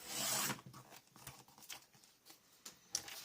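Scissors cut paper for a 12x12 scrapbook base page: a brief, close hissing slice, then faint snips and rustling paper.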